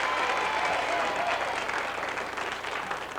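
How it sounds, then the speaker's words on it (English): Audience applause at a live game show event in Baton Rouge, a steady wash of clapping from a crowd, fairly far and even in level, tapering slightly toward the end. "How about a round of applause for the little baby?"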